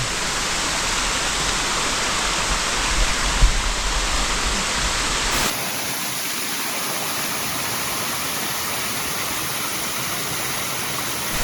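A mountain waterfall near an abandoned monk's hut, water pouring down steadily in a loud, close, unbroken roar that shifts slightly in tone partway through.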